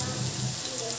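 Small round vadai frying in hot oil, a brief, continuous crackling sizzle heard up close.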